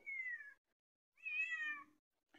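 Two cats meow in turn, each call a clear drawn-out cry near the listener, separated by a short silence, watching a third cat across a thin wall.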